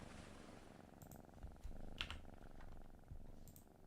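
A tiger in the video game PlayStation Home gives a soft, low purr close by, a continuous rumbling texture at low volume with a few faint clicks over it.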